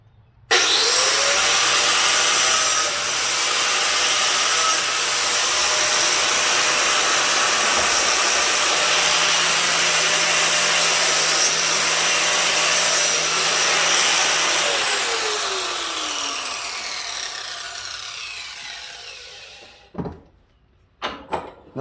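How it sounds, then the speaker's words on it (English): A power tool grinds the burrs off the back side of a lawn mower blade during spring sharpening. A loud, sustained abrasive whine runs for most of the stretch, then spins down, followed by a few sharp clunks. "Now I'm gonna just take all the burrs off the back side."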